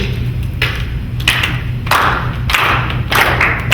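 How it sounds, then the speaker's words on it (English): A faculty audience at a poetry talk claps a rhythm together in unison, loud bursts of claps in a repeating pattern over a low steady hum, with a few scattered claps between the beats. "Can everybody in here clap a rhythm?"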